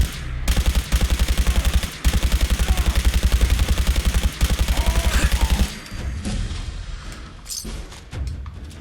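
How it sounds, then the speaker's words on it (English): Minigun fire in Fallout 4, a loud, rapid, unbroken stream of shots in long bursts with brief gaps, then fading into lower rumbling and scattered impacts. "That minigun is insane."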